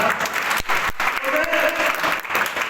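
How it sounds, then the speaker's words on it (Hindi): Loud, dense applause from an audience at a school event in Churu district, honouring the daughters, a sustained burst of clapping with a few sharp gaps and some voices mixed in. "इनके लिए जोरदार तालियां एक बार।"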